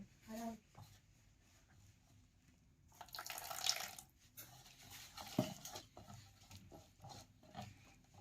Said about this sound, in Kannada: ನೀರನ್ನು ಹಾಕ್ಕೊಂಡ್ರಿ.